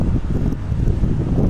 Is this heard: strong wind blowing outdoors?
yes